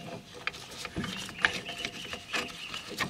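Ratcheting clicks from a hand caliper-rewind tool screwing back the rear brake piston of an Audi/VW caliper with electric handbrake, a few separate mechanical clicks and ticks at close range, quiet, with no talking.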